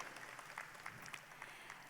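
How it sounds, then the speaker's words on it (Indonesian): Audience applause at the inauguration ceremony of a new Mitsubishi Motors manufacturing plant in Indonesia, a steady, fairly faint wash of many hands clapping throughout. "boleh kita berikan tepuk tangan yang meriah"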